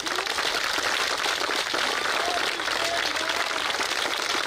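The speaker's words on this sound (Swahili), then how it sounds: "Makofi kwa mwalimu mkuu." A crowd at a school classroom commissioning ceremony in Kenya applauds the head teacher, a dense and continuous burst of clapping heard close, with faint voices mixed in beneath it.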